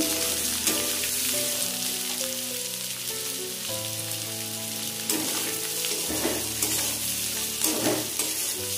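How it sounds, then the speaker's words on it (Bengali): Chopped onions fry in oil in a pan for mutton curry, a loud steady sizzle broken by scraping stirs of a spatula every couple of seconds, with soft musical tones underneath. "পেঁয়াজটাকে ভালো করে ভেজে নেব।"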